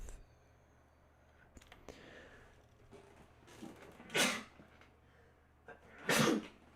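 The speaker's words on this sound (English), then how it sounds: "Sneezing a lot, apparently." Two loud, sharp sneezes about two seconds apart, close to the microphone over a quiet room background.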